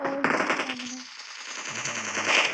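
Rapid bursts of automatic gunfire in the mobile battle-royale game PUBG Mobile, loud and dense for over two seconds, mixed with game tones.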